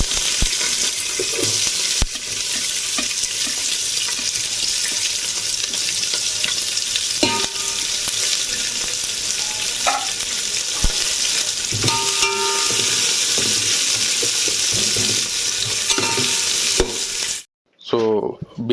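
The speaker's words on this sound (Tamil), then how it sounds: "ஸோ பிரியாணி வெங்காயம் வதங்கிட்டு இருக்குது." Loud, steady sizzling of onions frying in a pan for Ambur chicken biryani, with repeated scraping of a spoon stirring; the sizzle cuts out abruptly near the end.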